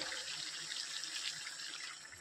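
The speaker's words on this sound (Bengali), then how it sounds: "এবার একটু পরিমাণ মতো জল দিয়ে দেবো।" Water is poured into a pan of Bengali-style alu kabli in a continuous, even splashing stream, soft and close, with no speech over it.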